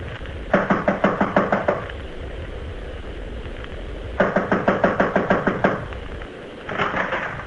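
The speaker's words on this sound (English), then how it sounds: "This is it. I'll knock." Knuckles rap on an apartment door in a vintage radio crime drama, three rapid bursts of sharp, evenly spaced knocks separated by short pauses, close and loud.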